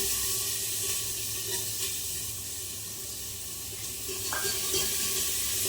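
Onion and green chili frying in a home kitchen pan, a steady low sizzle running throughout with faint scraping and stirring, close and fairly quiet, no voices.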